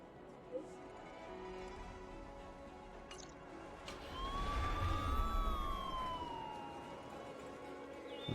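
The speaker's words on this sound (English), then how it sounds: "Police sirens?" Police siren from the game Honkai Star Rail, a wailing tone that rises and falls around the middle of the clip, faint and somewhat distant over a low background rumble.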